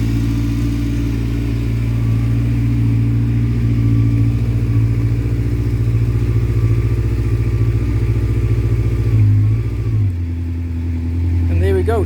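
A 1985 Honda 700 Nighthawk motorcycle idles steadily after a cold start with a close, loud low engine rumble, then briefly revs and settles to a lower idle near the end.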